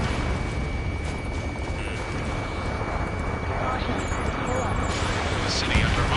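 Jet engines roar continuously in the Ace Combat video game, with rumbling blasts of gunfire in a city under martial law, while a voice speaks over the din.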